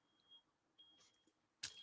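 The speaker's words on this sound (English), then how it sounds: "I hear somebody's smoke alarm going off." A smoke alarm goes off somewhere nearby, giving a thin, steady high-pitched beep that starts and stops with a gap, faint and off at a distance, followed by a sudden loud thump or bang.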